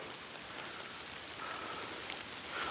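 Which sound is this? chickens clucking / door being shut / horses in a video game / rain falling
rain falling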